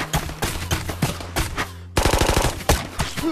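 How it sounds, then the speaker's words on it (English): Rapid gunfire rattles in the VR shooter Ghosts of Tabor, close, loud bursts of shots in quick succession with a brief gap before another dense volley. "He's shooting at me!"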